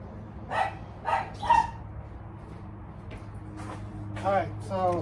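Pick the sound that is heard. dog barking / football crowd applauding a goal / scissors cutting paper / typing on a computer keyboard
dog barking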